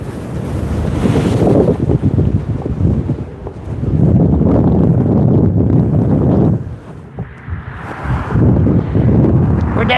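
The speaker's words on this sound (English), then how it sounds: "it's still a little windy out here" Strong outdoor wind buffets the microphone in loud roaring gusts that swell and ease, with a brief lull partway through before the blustering returns.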